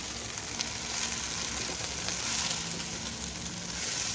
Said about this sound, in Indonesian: lalu aku mau masukin kangkung itu ke wajan.